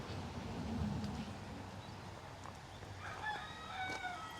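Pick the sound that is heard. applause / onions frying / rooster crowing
rooster crowing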